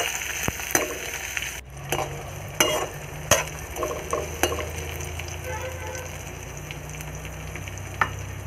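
Garlic is stirred and fried in a pan for ajwain rice, giving a continuous moderate sizzle. Scattered sharp scrapes and taps from the spoon sound against the pan, with no voices.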